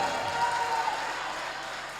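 Applause from a mushaira audience in a marriage hall, welcoming the poet Gufran Chulbul to the stage; a broad, steady wash of clapping holds at an even level throughout, with no voices standing out.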